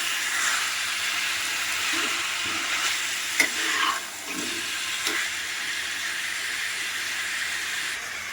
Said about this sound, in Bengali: তো মশলার সাথে ভালো করে চিকেনটা মিশিয়ে নিচ্ছি।